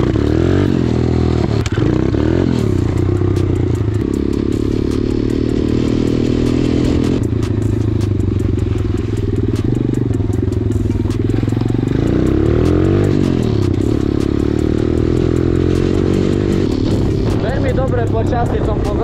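A Minirocket pit bike rides across a field, its small engine droning steadily and loudly close by with shifting pitch, plus a brief rev near the start and wind buffeting throughout.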